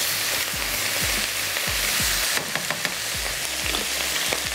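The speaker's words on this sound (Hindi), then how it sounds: "पालक को भी हम स्टर करते जाएंगे।" Spinach is stirred while it fries and wilts in a pan, giving a loud, dense sizzle. A spoon scrapes and knocks the pan in repeated short strokes over the sizzle, and no one speaks.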